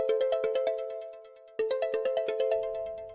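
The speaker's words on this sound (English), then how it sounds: "the Librem 5 ringtone contest, giving us a good idea of what the notifications for calls," Librem 5 phone ringtone, a bright electronic melody of quick plucked tones that plays through one phrase, pauses briefly, then repeats, clear and alone.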